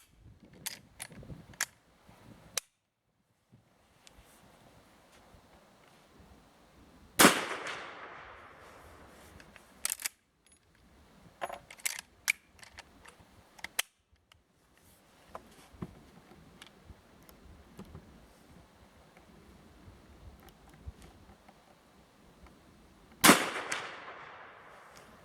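A .30-30 Winchester rifle fires cartridges outdoors, two sharp loud shots spaced well apart amid quieter clicks and handling sounds of the action.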